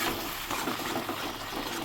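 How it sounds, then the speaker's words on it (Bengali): Spice masala for a Bengali meat curry cooking down with water in a pan, giving a steady, close hiss of sizzling and bubbling throughout with no talking. "জল দিয়ে কষানো হচ্ছে।"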